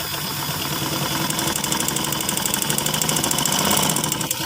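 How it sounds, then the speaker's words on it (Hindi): A sewing machine runs steadily, stitching fabric for the whole stretch with a continuous mechanical whir and a fast rhythmic stitch pattern, close and fairly loud, with no talking. "अब थोड़ी सी और सिलाई लगा के आपको दिखाती हूँ"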